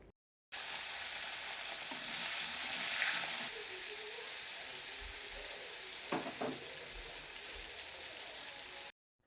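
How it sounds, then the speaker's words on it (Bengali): Cauliflower pieces fry in oil in a kadai, a soft, steady sizzling hiss throughout, with a couple of brief utensil clicks partway through and no voices. "এবার চলো ফুলকপিটা ভেজে নিই।"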